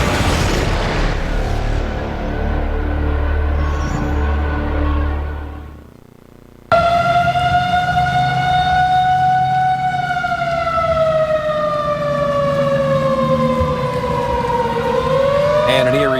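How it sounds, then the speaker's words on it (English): A long, wailing tornado warning siren in Houston, Mississippi rises and slowly falls, loud and steady, after a brief stretch of rumbling low noise that cuts out. "This is Houston, Mississippi with tornado sirens going off."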